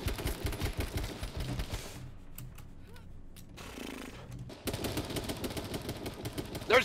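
Rapid automatic gunfire in the survival shooter H1Z1, sharp bursts of shots crackling in quick succession, then a quieter stretch with scattered faint pops before a renewed loud volley closes it out.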